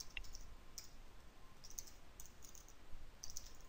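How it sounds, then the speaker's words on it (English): Fingers type on a computer keyboard, a sparse run of light, crisp key clicks spaced unevenly over a quiet background hiss, soft and close, with no talking. "let me just type this first"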